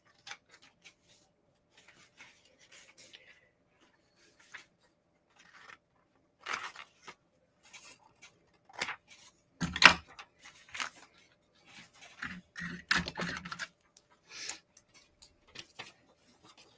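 Scissors cut a paper image out for a paper craft piece, giving scattered crisp snips. They come in small clusters with quiet gaps between them, close by, with faint paper rustling and no speech.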